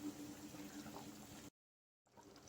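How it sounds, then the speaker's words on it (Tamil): Soft bubbling and gurgling of chicken kurma simmering on a stove, a gentle continuous liquid burble that cuts out briefly before resuming. "இப்போ சிம்மில் வச்சு ஒரு பத்து நிமிஷம் கொதிக்கட்டும்"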